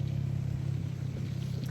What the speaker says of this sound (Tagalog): Kasi ang ingay ng motor.